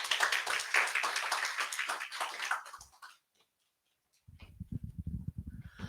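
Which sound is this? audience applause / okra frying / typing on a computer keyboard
audience applause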